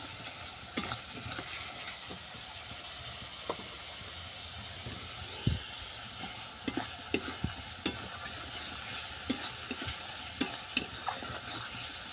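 Spice paste with grated and chopped tomato being stir-fried in a pan, a steady low sizzle under scattered scraping and clinks of the spatula, faint and without talk.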